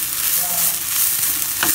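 A chicken mixture stirred in a hot pan, a dense continuous sizzle and frying hiss with the scrape of stirring running throughout, close and fairly loud, ending with a couple of sharper knocks.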